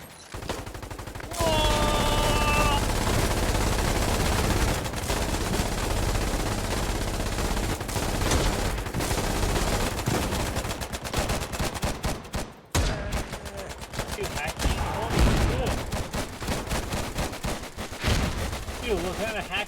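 A Fiddler gun firing in close combat in the war game Foxhole, with loud, rapid, sustained bursts of shots and blasts over nearly twenty seconds, mixed with battle noise and voices talking.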